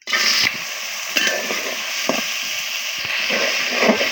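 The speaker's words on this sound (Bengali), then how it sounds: "এবার আমি ডালগুলো দিয়ে দিচ্ছি ছোলার ডাল কালকে ভিজিয়ে রেখেছিলাম" Soaked chana dal dropped into a little oil in a pan, sizzling and crackling loudly up close, with occasional scraping stirs breaking the steady frying hiss.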